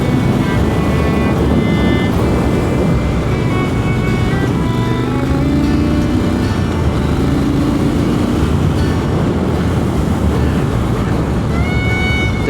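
A Triumph or Harley motorcycle cruising along winding countryside roads, its engine droning steadily and loudly throughout with shifting pitch as it rolls on and off the throttle, wind rumble underneath.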